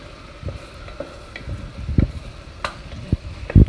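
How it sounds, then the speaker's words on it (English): Garlic cloves sauté in Smart Balance spread in a pan, with soft sizzling broken by irregular utensil knocks and clinks, close and moderately loud, with no talking. "I'm going to add 2 garlic cloves, and I'm going to saute them just a bit"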